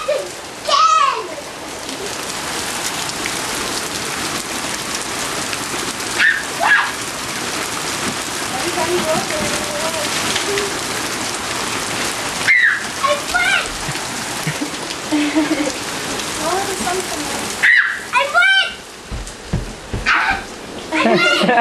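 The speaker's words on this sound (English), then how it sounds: "It's a sun shower. Yeah, because it's raining, but there's sun coming out now." Rain pattering steadily on surfaces during a sun shower in a Richmond Hill hail storm, with voices talking over it and a dog barking at moments.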